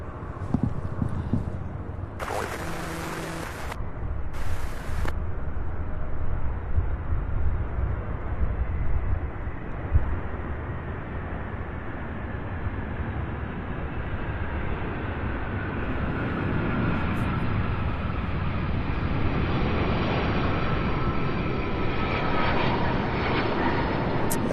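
An airliner landing at Louisville International Airport with light reverse thrust makes a long, loud, swelling engine roar that rises and then settles into a sustained rumble with a whine, with no voices.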